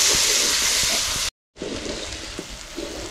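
Ginger garlic paste frying with browned onions in a pan for a village-style fish curry, giving a steady broadband sizzle that cuts out briefly and then resumes with light crackles.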